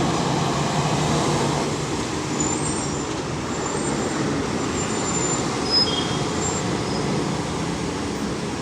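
Steady city street traffic in Mexico City, a continuous dense roar of cars, buses and trucks with faint high squeals like brakes, no voices.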